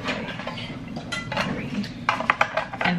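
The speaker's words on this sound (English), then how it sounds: "put cinnamon sticks in here" Cinnamon sticks dropped into a kitchen pot holding orange slices, cloves and onion, giving a few light knocks and clinks close by over soft background noise, with no talking.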